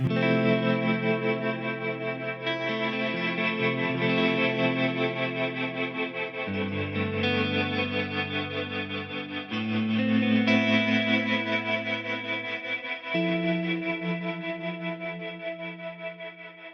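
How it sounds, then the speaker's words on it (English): Clean electric guitar chords ring out through a washy cirrocumulus reverb into a tremolo, their volume pulsing in a steady throb as the notes shift and sustain. "running a reverb like the cirrocumulus reverb into a tremolo, so you get this kind of effect"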